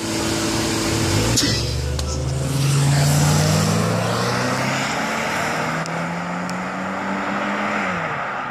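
Honda Civic engine revved hard at a launch, a loud rising and falling drone with a sustained high rev, near and continuous, with faint voices around it.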